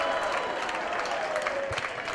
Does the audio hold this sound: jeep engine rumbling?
no